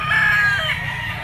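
A Gilmore straight-comb bull stag rooster crows once, loud and close, a single drawn-out call held over about a second with no other sounds.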